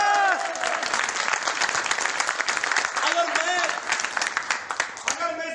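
An audience at a DTM business meeting applauding: dense, loud, sustained crowd clapping with a few cheers or whistles rising above it, filling the room from start to finish.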